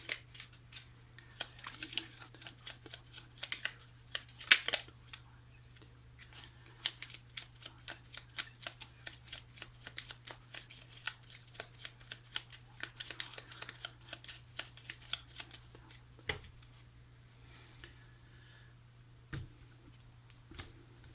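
Tarot cards being shuffled and cut at close range: quiet, rapid riffling and flicking in repeated bursts, with soft taps and pauses between handfuls over a low steady hum.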